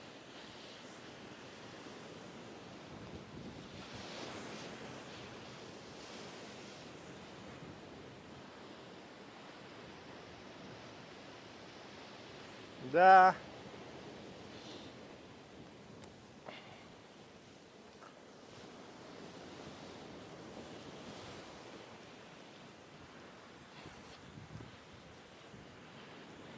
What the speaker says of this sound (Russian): Попасть под волну не хочется.